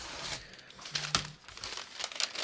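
Paper crinkles and rustles in short handled bursts while being added to a sewing pattern during a pattern adjustment, close and fairly quiet, with a couple of sharper crackles.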